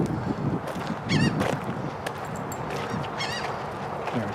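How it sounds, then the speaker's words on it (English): Geese honk repeatedly along a saltwater greenway, their calls overlapping in bursts against a steady outdoor background, fairly close and clear. "Man, there are birds everywhere."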